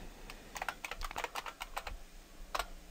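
A password typed on a computer keyboard, a quick run of close, light key clicks in a short irregular burst with a final tap after a pause, in a quiet room.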